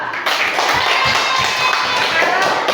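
A classroom of students claps for a presenting group, a loud, dense patter of many hands with some heavier taps, steady throughout with voices mixed in.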